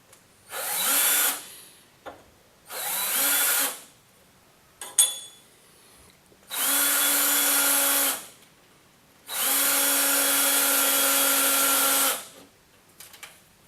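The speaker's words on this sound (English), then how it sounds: "simply mark your holes and drill them" A power drill bores mounting holes, heard as four separate bursts: two short ones, then two longer steady whines, each spinning up and winding down, close and loud with quiet pauses between.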